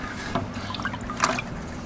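Coolant and water being flushed out of a 1990 Nissan 300ZX Turbo radiator, a close liquid trickle and splashing stream with a few louder gushes and drips.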